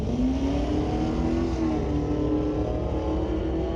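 A 1971 and a 1972 Chevelle drag car leave the line together at a drag strip with a loud, sustained engine roar. The pitch sweeps as they accelerate away, steady and unbroken throughout.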